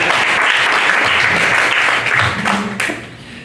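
A church congregation at a Pentecost service in Tampa, Florida, claps in a dense, loud burst of applause that holds steady and then thins out toward the end.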